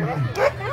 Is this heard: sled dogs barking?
yes